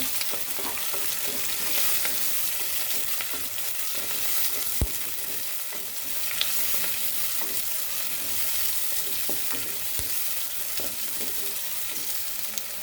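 Onion and tomato sauté in oil for a brinjal and mango tamarind curry, with a continuous sizzle broken by a few sharp spatula knocks and stirring sounds.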